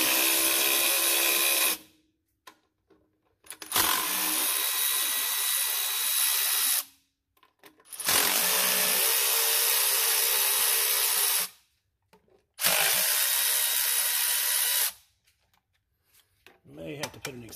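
A power tool spins out 10mm intake bolts on a 2001 Cummins 24v diesel engine, running in four long, loud, steady whirring bursts up close with brief gaps of silence and small clicks between them.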